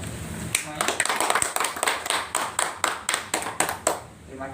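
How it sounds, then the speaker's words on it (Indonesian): Applause at a community session on child stunting: a group of hands claps in a steady, fairly quick rhythm of distinct claps, moderately close, with voices murmuring underneath. "tepuk tangan semuanya"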